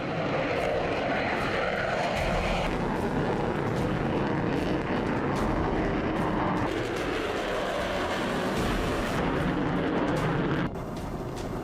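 An F-35A fighter jet flies overhead, giving a loud, steady, broadband engine roar that stays continuous for about eleven seconds, then drops away near the end. No one speaks.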